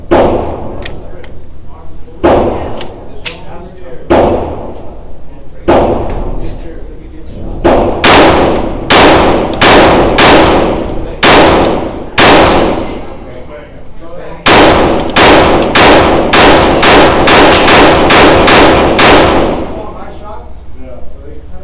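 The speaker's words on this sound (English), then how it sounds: "as you saw from the shooting, both of the guns shoot great" Sig P322 and Taurus TX22 Competition .22 pistols fired in rapid strings of sharp, loud, close cracks with brief pauses between strings, spread across the whole stretch.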